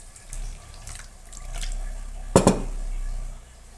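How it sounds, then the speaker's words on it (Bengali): Lukewarm water poured from a tap or jug into a bowl of semolina for sweet potato pitha, a soft running trickle with a couple of quick splashy clinks near the end. "একটু জল দিয়ে ভিজিয়ে রাখবো।"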